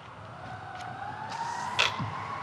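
A siren wails in the distance, its tone sliding slowly upward, with faint traffic rumble and a brief clatter nearby.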